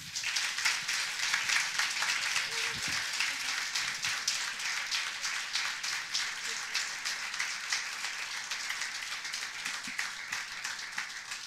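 An audience at an author talk applauds to welcome writer Elizabeth Berg, a dense, steady wash of many hands clapping that holds at an even, moderate level for the full stretch with no break.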